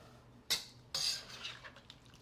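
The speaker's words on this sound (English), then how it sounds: "Deglaze a little at the bottom with this sauce." Metal utensil scraping and clinking against a pan while deglazing the bottom with sauce during chicken stir fry meal prep, two sharp scrapes followed by softer stirring sounds, close and fairly quiet.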